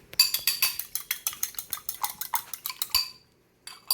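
A large fork beating an egg in a bowl, rapid clinking strokes in a steady rhythm for about three seconds, close and fairly quiet, then a pause before one more stroke.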